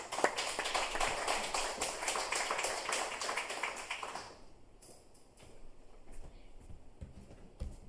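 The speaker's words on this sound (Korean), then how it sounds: "우리 따뜻한 박수로 모시겠습니다." A church congregation clapping to welcome a pastor during a Wednesday worship service, a close, busy patter of many hands for about four seconds that then fades to scattered light taps and quiet room sound.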